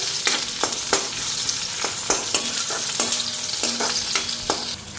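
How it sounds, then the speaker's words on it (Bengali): Cumin and turmeric spices fry in a pan with a steady loud sizzle, broken by repeated scraping stirs of a spatula across the pan; no one speaks. "একবারে মশলাটা ফ্রাই করে নিই পরে আলুটা দিব"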